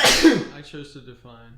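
One sharp, loud sneeze bursts out at close range, and a voice speaks right after it.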